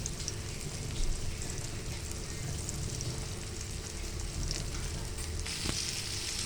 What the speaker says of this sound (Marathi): पाच सहा मिनटं आपण फ्राय करून घेऊया